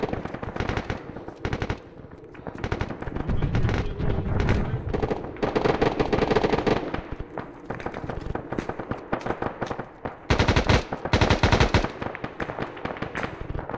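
A vehicle-mounted gun in the military video game Arma 3 fires in long, loud sustained bursts with short pauses between them, amid other gunfire and faint voices speaking over the noise.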